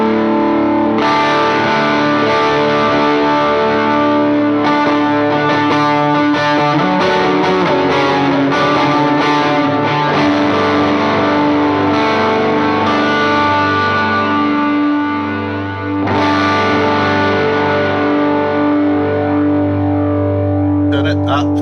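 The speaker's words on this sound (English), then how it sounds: "Now let's hear the Mojo Mojo in isolation first." Electric guitar played through a Mojo Mojo overdrive pedal, sustained warm overdriven chords ringing continuously and loud for about twenty seconds, with a brief dip near the end before the tone swells again.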